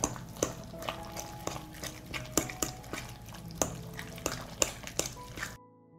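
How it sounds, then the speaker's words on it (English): Ground red pepper and lemon juice stirred together in a bowl, with repeated clinks and taps of a spoon against the dish in an uneven rhythm, close and moderately loud, ending abruptly in silence. "I'm going to mix it all together"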